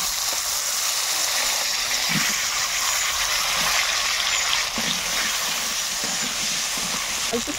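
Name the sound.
potatoes frying in fish-frying oil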